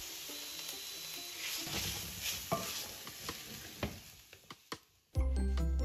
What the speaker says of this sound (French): je fais revenir à feu moyenne